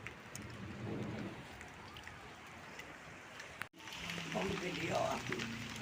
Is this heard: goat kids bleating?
no